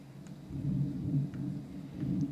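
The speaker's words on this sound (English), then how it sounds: "Thunder." Low, rolling thunder rumbles through a rainy railway scene in the Train Sim World 3 game, a steady distant growl with soft swells and no voices.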